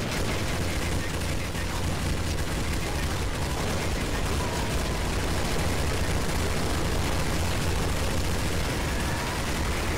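Sustained rapid gunfire fills a Counter-Strike: Source zombie-escape castle map, a dense, continuous barrage of overlapping shots with no pauses, loud and close throughout.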